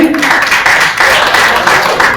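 Audience applause at an award ceremony held by Vakta Manch in Raipur, a steady dense patter of many hands clapping that continues without a break for a couple of seconds.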